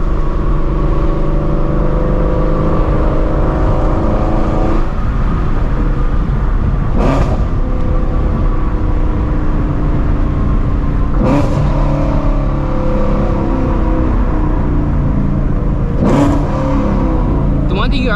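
A Shelby GT350 Mustang pulls hard under acceleration, its engine note rising and falling through several surges with brief shift breaks, loud and close from inside the cabin.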